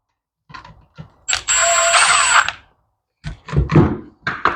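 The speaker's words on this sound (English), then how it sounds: "And now the ratchet comes in handy." Bursts of ratcheting and metallic tool clicks as a ratchet tightens the bar nuts on a Craftsman chainsaw, with a longer whirring stretch in the middle, short bursts separated by brief silences.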